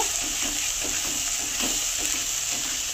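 Spice paste for a potato korma fries and is stirred in a pan, a continuous loud sizzle with rhythmic scraping strokes of the spoon, close up and with no voices.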